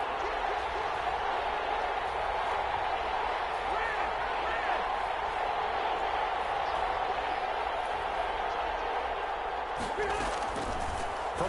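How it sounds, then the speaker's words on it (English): A football stadium crowd roars steadily ahead of a big third-down play, a dense, continuous wash of cheering from a large crowd, with a commentator talking over it. "the crowd getting into it as we come up on a big 3rd down"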